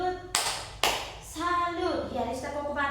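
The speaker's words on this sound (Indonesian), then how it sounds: "Tepuk salut ke untuk Rista." A school class doing a rhythmic salute clap for a student, two sharp claps followed by children chanting in unison, close and lively in a classroom.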